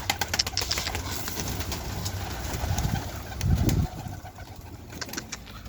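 Pigeons coo in a loft, soft low throaty calls swelling into a louder coo around the middle, with scattered clicks and rustling around them and no voices.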